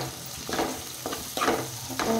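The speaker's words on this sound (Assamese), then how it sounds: "এইখিনি অলপমান ফ্ৰাই কৰি লওঁ" Ginger garlic paste fries in a pan with onions, a steady sizzle broken by three or four scraping stirs of a spatula at regular intervals, close and alone.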